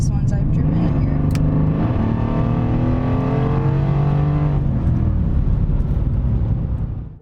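A Mercedes four-door sedan accelerates hard in Sport mode, its engine loud and close inside the cabin with rising harmonics as it pulls through the revs before easing off.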